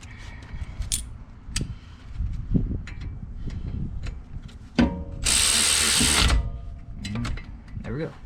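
A screw is driven in during brake pad replacement on a BMW 335d, with scattered ratcheting clicks and metallic clatter followed by a loud whirring burst of about a second, and faint talk between the sounds.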